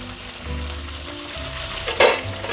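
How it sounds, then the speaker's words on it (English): Katla fish pieces fry in hot mustard oil with a continuous loud sizzle, then a sharp burst of spluttering oil rises suddenly near the end. "be careful while adding the fish because the oil will splutter"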